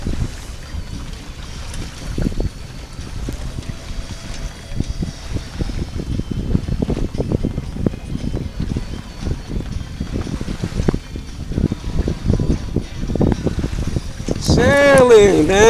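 A sailboat tacks back and forth in decent wind on the bay near McCovey Cove, with gusty wind buffeting, water rushing along the hull and rigging noise, close and fairly loud, while people talk aboard.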